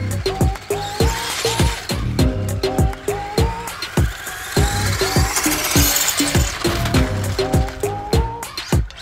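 A toy-grade 1/8 scale Hennessey Venom GT RC car with a new pinion gear runs under throttle, its motor whining in rapid repeated bursts with clicking, ratcheting gear noise, close and fairly loud.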